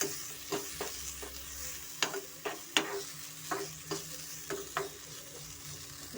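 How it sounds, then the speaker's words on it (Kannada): Tomato pieces frying in a pan for a vegetable masala bread roast, with a soft continuous sizzle broken by repeated sharp scrapes and taps of a spoon stirring, close by and moderately quiet. "ಸ್ವಲ್ಪ ಟೊಮೆಟೊ ಅದನ್ನು ಸ್ವಲ್ಪ ನಾವು ಫ್ರೈ ಮಾಡ್ಕೊಳ್ಳೋಣ"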